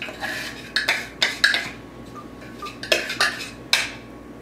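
A plate and utensils are handled up close while a breading mix of flour and seasoning is prepared for chicken nuggets, giving a series of sharp clinks and scrapes with brief quiet gaps between them.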